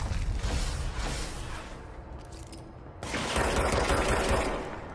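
Rapid bursts of enemy gunfire in the video game Control, a dense crackling fusillade that thins out midway and then surges back louder and closer.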